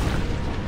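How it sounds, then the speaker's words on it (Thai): A smoke bomb is thrown and bursts in the Dead by Daylight video game, a loud, dense, continuous rumbling blast that fills the whole short moment without a break. "ปาระเบิดควันใส่เรามองไม่เห็นอะไรเลย"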